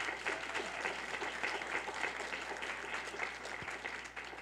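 At a congressional town hall, an audience applauds veterans in a sustained crowd clapping that is fairly faint and distant, steady throughout with no speech.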